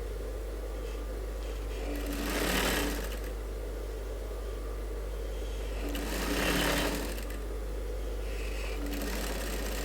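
A sewing machine stitches a women's suit in short runs, two distinct bursts of rapid needle chatter rising over a quiet hum, close by and without speech.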